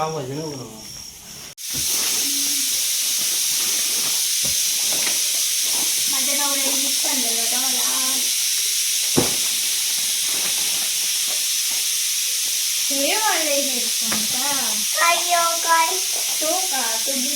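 A pressure cooker cooking pav bhaji hisses steadily with a loud, continuous jet of steam, while people talk intermittently over it.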